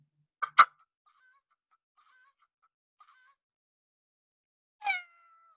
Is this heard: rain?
no